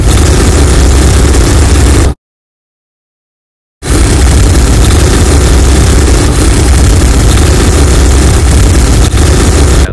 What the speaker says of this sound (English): here's one with the bike not pinging, and here's one with the bike pinging.